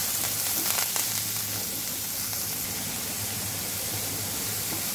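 Onion, capsicum, carrot and tomato fry lightly together in a pan, making a dense, even hiss that runs unbroken throughout, close and steady, with no voices.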